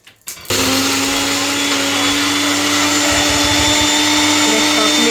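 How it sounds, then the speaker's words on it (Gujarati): A mixer grinder blends masala for smoky tandoori chicken, starting abruptly after a brief click and then whirring at a loud, steady pitch with a slight rise in roughness near the end. "મિક્સર લાવી નાખ્યું"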